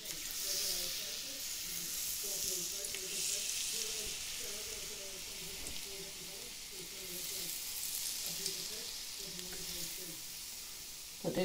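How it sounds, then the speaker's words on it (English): Yorkshire pudding batter poured into a red-hot tin sizzles with a steady, close hiss that continues throughout, with faint voices underneath. "See the sizzle?"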